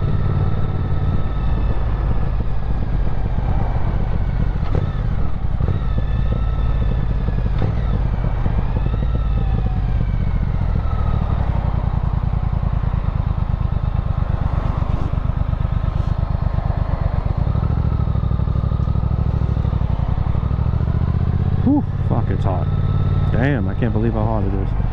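A 2022 Triumph Speed Twin 1200 motorcycle being ridden on a hot day, its engine a steady low drone with wind rush throughout, while a rider talks over it.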